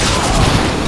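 A grenade blast in a competitive shooter match, heard as a short, loud, dense burst of explosive noise with a booming low end lasting under a second.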